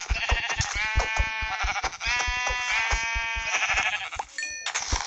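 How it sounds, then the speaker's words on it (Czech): Several sheep in the video game Minecraft bleat one after another, near and loud, with rapid clicking and tapping underneath. "A jenom jsou tam rovnou ovce."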